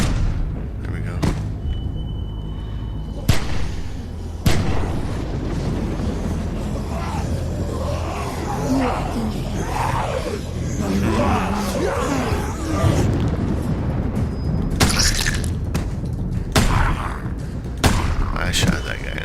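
Gunshots in The Walking Dead Season 2 video game, several sharp loud reports spaced apart over a rumbling scene with scattered thuds, under occasional talking.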